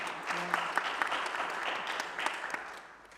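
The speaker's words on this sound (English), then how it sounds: "let us give a round of applause for the efforts made for this publication" A seminar audience applauding together, a dense steady clatter of clapping that holds for a few seconds and then begins to fade.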